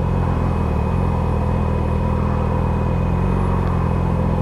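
A motorcycle engine runs close and loud while the rider slips the clutch in the friction zone, giving a continuous low rumbling drone with a steady pulse and no speech.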